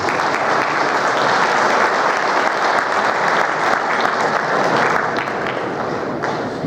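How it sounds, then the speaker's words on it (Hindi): A large audience at a mushaira poetry gathering in Riyadh claps loudly and continuously to welcome guest poets, a dense, even wash of applause with no voices over it. "मेहमान शोहरा का इस्तकबाल जोरदार तालियों से करें"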